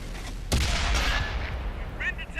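Tank cannon fire in World of Tanks on Xbox One, an Object 140 letting off a single loud, close blast with a rumbling decay, and a commentator's voice faintly beneath.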